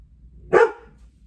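A single loud bark from a dog indoors, reacting to a noise outside, short and sharp against a quiet room.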